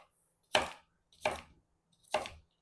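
A knife chops vegetables for bacon and sweet potato soup: three distinct, evenly spaced thuds against a cutting board, close and clear with no talking.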